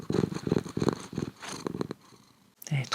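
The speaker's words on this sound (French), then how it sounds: "N'empêche que ces ronronnements, ils m'ont un peu calmée" A cat purrs close by in a home in Kuwait, a low rhythmic rumble pulsing in steady breaths before fading, with a brief soft sound near the end.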